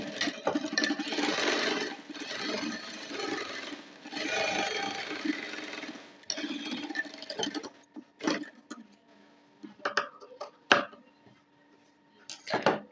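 A sewing machine runs three close, rattling bursts of stitching while double-stitching an unlined blouse with tucks. Scattered sharp clicks and fabric handling follow once the stitching stops.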